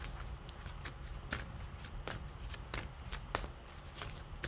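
Tarot cards are shuffled by hand in a quick run of soft riffling flutters and sharp slaps, close and fairly quiet, with no talking over them.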